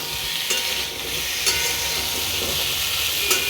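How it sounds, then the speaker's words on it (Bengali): Green chilli and panch phoron fry in hot oil for a pumpkin and Malabar spinach dish, making a loud continuous sizzle with a few sharp crackles and no voices. "এবার এটাকে ভালোভাবে ভেজে নেব"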